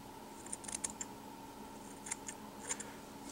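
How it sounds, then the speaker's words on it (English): Scissors snip fly-tying fibers on an articulated swimming baitfish streamer, several quiet close crisp cuts in small clusters over a faint steady background hum. "I'm going to trim a little bit at an angle."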